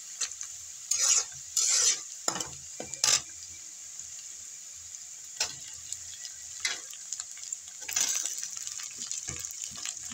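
Okra added to a pan with fried onion sizzles faintly while a spoon stirs and scrapes in irregular bursts, quiet and close, without speech.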